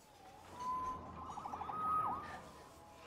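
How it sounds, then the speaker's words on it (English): A police siren wails in the Spider-Man video game, a wavering tone rising and falling with a quick yelp partway through, moderately distant over a low background rumble. "Saved by the siren."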